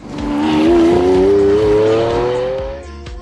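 A Lamborghini Aventador's naturally aspirated 6.5-litre V12 revs hard, close and loud, its pitch climbing steadily for about three seconds before cutting off with a sharp click.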